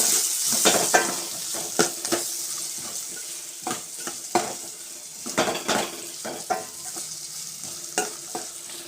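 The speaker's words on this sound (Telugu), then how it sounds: "ఇక్కడైతే ఆనియన్స్ అయితే తాలింపు పెట్టేశాను" Onions being tempered and fried in a pan: a continuous sizzle broken by repeated scraping stirs and sharp metallic clanks of a utensil against the pan, close and fairly loud.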